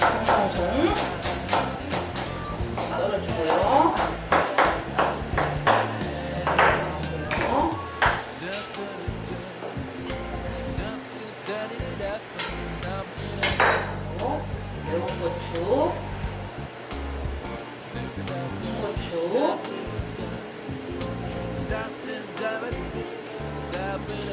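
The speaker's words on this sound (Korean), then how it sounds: "제가 이제 고명을 좀 썰어 볼게요." Garnish for a spicy doenjang stew is chopped with a knife on a cutting board, a series of sharp irregular knocks while someone talks throughout.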